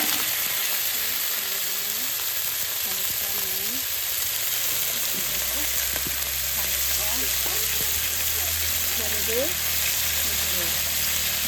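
Singi fish sizzles steadily as it fries in hot oil, a continuous crackling hiss that lasts throughout while a person talks over it.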